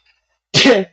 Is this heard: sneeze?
yes